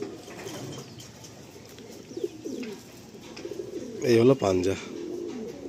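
Pigeons give a few soft coos, the clearest bursts coming near the end, while someone talks over them.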